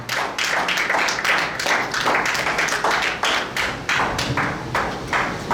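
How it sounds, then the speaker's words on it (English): A church congregation claps steadily and loudly, sustained applause with no voices standing out. "let us, with a round of applause, welcome Deaconess Utome for today's Bible reading"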